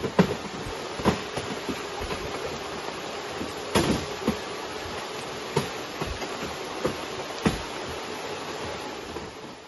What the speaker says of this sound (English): All those cracking noises you can hear are coming from the winch line settling into the winch drum on the winch